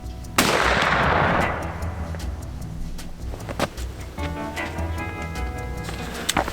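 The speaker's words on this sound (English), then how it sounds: "we fixing to dial these guns in" Rifles being sighted in at a 100-yard range from a shooting house on a Nebraska cornfield: one sharp, loud shot rings out and decays, followed by fainter distant cracks and a steady engine-like hum, with no voices.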